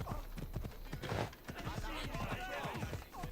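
Rhythmic hoofbeats of a galloping horse in the video game Assassin's Creed Odyssey clatter beneath overlapping talk, with a brief whinny-like sound, moderately loud.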